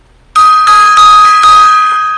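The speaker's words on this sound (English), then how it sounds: "Banging on the gong." A metallic struck instrument rings out with a bright sustained tone, hit several times in quick succession so the strokes overlap and decay slowly, loud and close with no talk.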